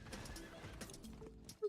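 A horse mount in Diablo IV gives a short whinny at the very end, after a quiet stretch of soft hoof clip-clop and faint game ambience.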